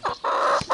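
A hen clucks close up in three short, loud bursts with brief pauses between them, with no talking over it.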